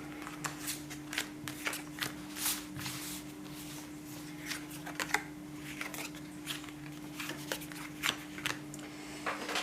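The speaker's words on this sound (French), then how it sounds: "Je vais prendre 3 cartes." Tarot cards being drawn and laid out one after another, a run of soft close flicks, slides and taps scattered irregularly over a faint steady hum.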